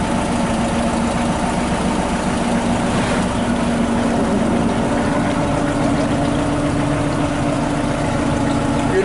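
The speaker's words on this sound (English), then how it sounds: "we're puttering along here at nice gentle speed on the Muskoka, and the engine seems to be purring along pretty well" An 18 ft Thompson runabout boat engine putters steadily at gentle speed on the Muskoka river, a continuous low idling drone that stays close and even throughout, with no talking.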